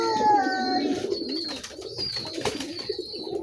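King pigeons cooing in a loft, a series of deep, throaty coos and grumbling calls close by, overlapping with whistly bird chirps and light background noise.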